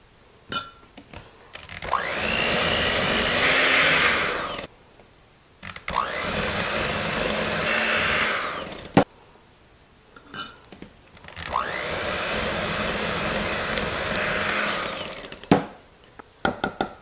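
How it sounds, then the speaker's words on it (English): Electric mixer beating powdered sugar into an Oreo lemon dessert filling, whirring loudly in three long bursts separated by short pauses with faint clatter. "We're going to beat in 1 cup of powdered sugar."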